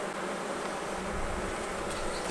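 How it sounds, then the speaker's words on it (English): Honey bees being shaken off hive frames during a hive split, a dense, steady close-up buzzing drone from many bees at once. "shaking the bees off each frame"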